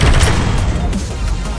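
Weapon fire in the VR shooter Space Pirate Trainer, a dense, continuous barrage of booming shots with heavy low-end rumble that runs loud and steady without a break.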